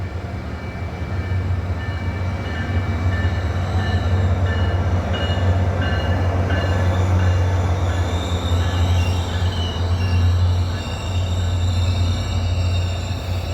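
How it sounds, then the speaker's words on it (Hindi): An American commuter train rolls steadily past nearby, a loud continuous low rumble of wheels on rails with metallic squeals above it throughout. "ये जनाब अमेरिका की एक और ट्रेन का नज़ारा कीजिए।"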